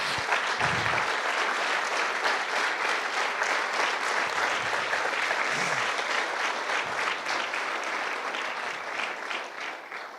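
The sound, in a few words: congregation applauding in church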